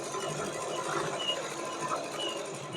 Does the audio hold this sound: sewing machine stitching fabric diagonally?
yes